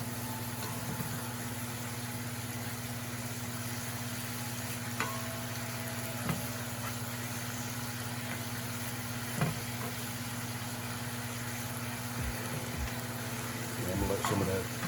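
Philly steak meat sizzles and browns in a pan, a steady close frying hiss with a few clinks and scrapes and a low hum underneath.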